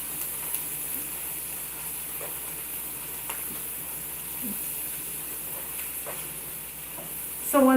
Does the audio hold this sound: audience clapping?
no